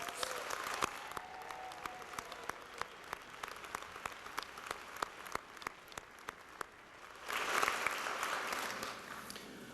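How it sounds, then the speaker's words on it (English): Audience applause at a Middlesex Community College commencement ceremony in 2022, steady clapping that thins to scattered claps before swelling again in a louder burst near the end, heard from within a large hall. "Please give her a round of applause."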